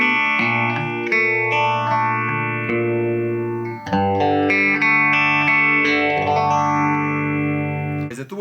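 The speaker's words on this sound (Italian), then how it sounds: "Andiamo a sentire invece cosa succede nella catena di modulazione. Il phase 90." An electric guitar runs through a Phase 90 phaser pedal, playing loud, sustained chords and notes with a slow, swirling whoosh sweeping up and down through each one.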